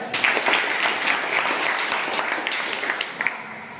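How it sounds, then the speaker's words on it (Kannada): A ninth-grade classroom full of students claps together in a lively burst of applause that holds steady for a few seconds, with no talking over it. "ಚಪ್ಪಾಳೆ"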